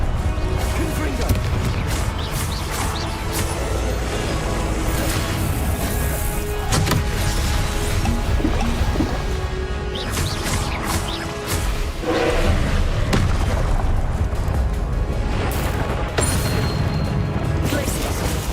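Confringo fire spells blasting in Hogwarts Legacy combat, dense booming impacts and crashes layered over constant game noise and a man calling out spell names throughout.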